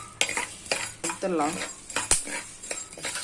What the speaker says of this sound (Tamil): இதை நல்லா வறுத்துக்கலாம்.